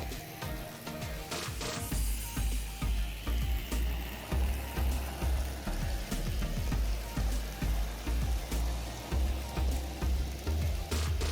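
A small N scale Trix model locomotive rattles along a track with a rapid, regular clicking rhythm and a low motor whir, close and continuous.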